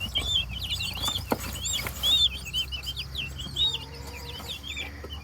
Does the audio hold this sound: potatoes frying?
no